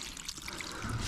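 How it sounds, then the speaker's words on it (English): A short, quiet stream of liquid, water then oil, pouring and trickling out of a junkyard car engine, steady and close by. "I wanna drain the water out of it."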